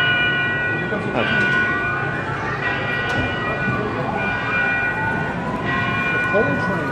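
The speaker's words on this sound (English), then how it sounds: "The coal train. There's another train." A coal train rumbles past nearby with a steady roar, while a high whine and a few metallic squeals ring out over it.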